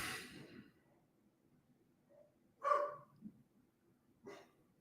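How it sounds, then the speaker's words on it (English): A few sharp dog barks in a quiet room, one short burst early, a louder one midway, and a fainter one near the end. "what is she barking at?"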